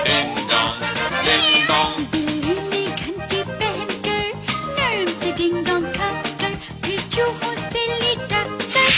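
Cat meows ring out amid bright bell jingles and chimes in a catchy TV commercial jingle, loud and continuous, mixed with music and sung voices.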